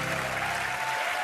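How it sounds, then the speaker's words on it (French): A live audience applauds steadily, a dense wash of clapping that fills the whole short stretch at full loudness. "C'est Molière que vous applaudissez."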